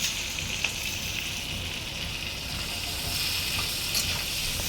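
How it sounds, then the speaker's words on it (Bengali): Prawns fry in a hot pan over lowered heat, giving a steady, dense sizzle with faint crackles and pops, close and continuous with no one speaking. "সবসময় চিংড়ি মাছ কড়া আছে ভাজতে হবে।"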